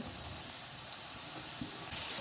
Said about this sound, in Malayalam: സബോള 2-3 സബോള അരിഞ്ഞതും കൂടിയും ചേർത്ത് നല്ലോണം വഴറ്റി വരുമ്പോൾ അതിലേക്ക് പച്ചമുളക് ഇട്ടു